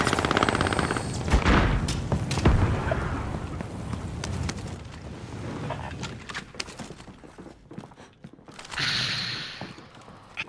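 Gunfire in Call of Duty: Modern Warfare, with bursts of automatic weapon fire and scattered shots throughout a busy battle mix, loud and near.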